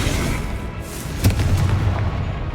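A single sharp explosive boom from the Confringo spell in the Hogwarts Legacy video game, cracking out loudly midway over a dense rumbling battle background.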